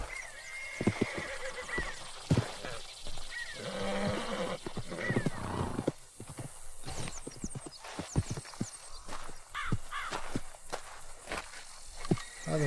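A horse in the video game Red Dead Redemption 2 whinnies and neighs while hooves clip-clop in a steady walking rhythm, close and fairly loud, with several sharp hoof knocks scattered through.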